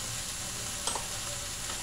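Bangus relleno filling sautés with ginger and raisins in a pan, a steady, fairly quiet sizzle with one or two small stirring clinks, and no one speaking.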